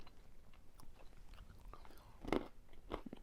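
Quiet crunchy bites and chewing up close on a brown sugar caramelized snack, with a sharper crackling crunch standing out amid soft mouth sounds.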